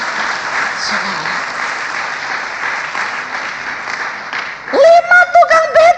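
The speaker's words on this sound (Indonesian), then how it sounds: "Kasih tepuk tangan buat Tuhan." Church audience applauding during an Indonesian evangelist's sermon, sustained loud clapping from a crowd for several seconds before a voice cuts in at the end.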